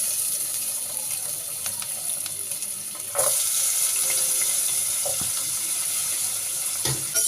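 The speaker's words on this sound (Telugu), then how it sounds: "ఇంకా డైరెక్ట్ ఆనియన్స్ వేసేసుకుంటున్నాను" Onions frying in hot oil in a kadai, a steady dense sizzle that grows louder partway through and continues alone without talk.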